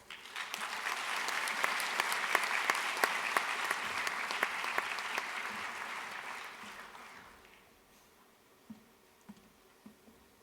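A graduation audience at Curtin University applauds to welcome the speaker, with steady, dense clapping that fills the hall for about seven seconds before fading, followed by a few faint thumps.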